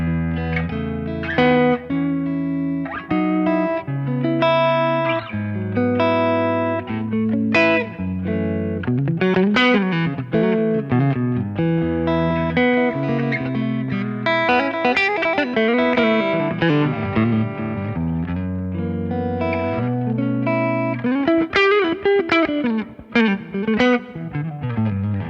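Harmony Juno electric guitar on its P90 neck pickup, played through a Kemper amp profile: a continuous melodic passage of picked notes and chords with mild drive and light reverb, close and loud, with no talking.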